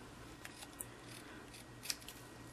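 Scissors snipping through a paper doily to cut it in half, a few faint, crisp clicks spaced irregularly over a quiet room hiss.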